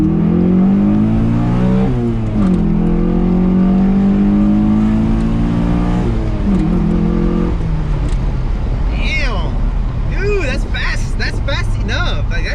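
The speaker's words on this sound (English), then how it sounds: "he's gonna let me drive his car" A 1995 Honda Accord with an F20B engine swap pulls away and accelerates, the engine climbing through revs with gear changes, loud and close, while people talk over it.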